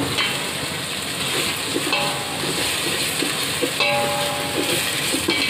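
Pepper, cumin, poppy seeds and fennel sauté in a pan for a seeraga samba chicken biryani, making a constant low sizzle with occasional utensil scrapes and faint metallic taps.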